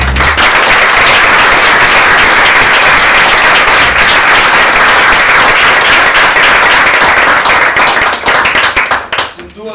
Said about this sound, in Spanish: me gustaría que le diéramos un aplauso